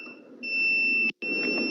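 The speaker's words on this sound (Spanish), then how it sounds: "Si nos marca 0 y emite un pitido" A sustained electronic beep tone from an electrical tester set to the 250-volt scale cuts off briefly and then resumes, high-pitched and steady over a low hum.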